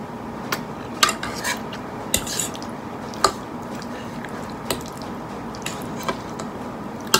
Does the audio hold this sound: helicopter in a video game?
no